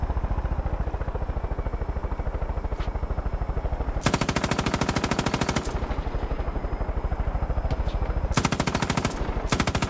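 Rapid automatic gunfire in the video game Far Cry 5, a continuous rattling stream of shots with two louder, denser bursts standing out against steady background noise.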